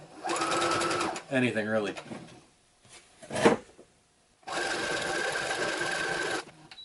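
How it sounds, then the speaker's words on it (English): A sewing machine runs a zigzag stitch across pleated fabric for a Tusken Raider costume wrap, with two steady mechanical bursts of whirring, one early and one longer later, near and loud. A brief remark is spoken between the runs. "I'm going to do a zigzag stitch all the way across here"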